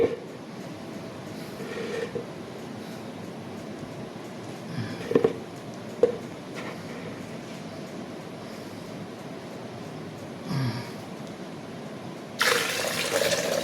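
Water gushes and splashes out of a freshly opened young coconut in a few brief bursts over a steady wet background, ending in a louder rush of pouring liquid.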